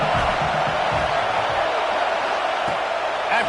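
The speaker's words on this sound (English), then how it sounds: "This crowd going to try to make life miserable for these guys." A football stadium crowd roars as a steady, dense wash of noise, with commentary talk running over it.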